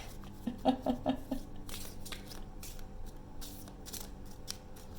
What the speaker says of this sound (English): I do feel like I'm supposed to at least start shuffling these cards